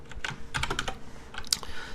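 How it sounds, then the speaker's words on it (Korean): Fingers type on a computer keyboard during a coding session, giving quick, irregular bursts of crisp key clicks at close range with no talk over them. "타이핑 해보죠"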